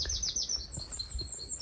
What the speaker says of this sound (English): And the birds are really enjoying the sunshine anyway. Listen to that. It's a blackbird, I think.